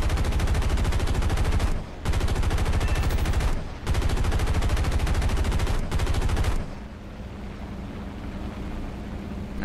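Aircraft machine guns in War Thunder hammer out three long sustained bursts at an A-36, separated by brief pauses, before dropping to a steady engine drone.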